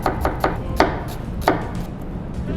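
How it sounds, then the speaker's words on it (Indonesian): A knife chops shallots on a chopping board in a quick series of crisp, close thuds, about half a dozen sharp strikes with brief gaps between them. "Kita potong aja bawangnya."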